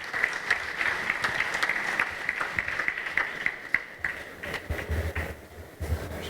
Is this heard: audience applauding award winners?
yes